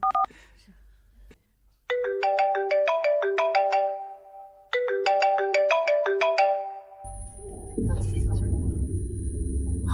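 A phone ringtone plays a repeating melodic chime pattern in two bursts, followed by a low rumbling swell and a sustained high tone.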